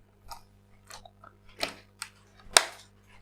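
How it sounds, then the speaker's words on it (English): Plastic RAM cover being pried and unclipped from an HP Pavilion i5 laptop, a handful of small sharp clicks and snaps, close and isolated, the last one loudest. "Now I'm removing the RAM cover."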